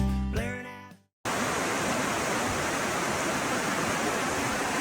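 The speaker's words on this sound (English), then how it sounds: "This is the Glade River." Glade River, a stocked trout stream in West Virginia, rushes in a steady broadband hiss of flowing water, loud and close. A brief fading tone and a moment of silence come before it.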